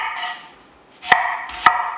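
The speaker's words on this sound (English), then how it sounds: "Cut up 1 onion," A knife chops through an onion on a cutting board, with two sharp, close chops about half a second apart plus fainter knife contact sounds between.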